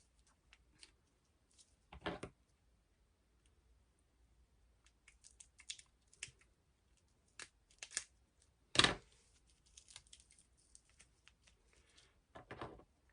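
Scissors trimming recycled paper for a notepad, a few sparse quiet snips and crisp cuts at irregular intervals in an otherwise silent room.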